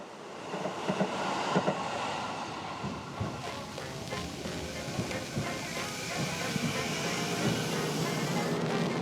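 A Sanyo Electric Railway train rumbles past Kasumigaoka station platform in Kobe, Japan, steadily with clattering wheels and rushing air, a busy platform ambience with faint voices beneath.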